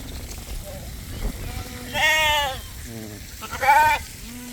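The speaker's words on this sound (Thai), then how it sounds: "นี่อันนี้ก็แพะ แกะดิเออแกะ" Goats and sheep bleat at a petting farm cafe in Sawang Daen Din, Sakon Nakhon, two loud wavering calls standing out close by over murmuring voices and low background chatter.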